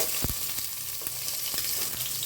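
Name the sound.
onion frying in a pan for vegetable pulao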